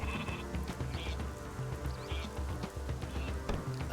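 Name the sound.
sheep bleating in the video game Northgard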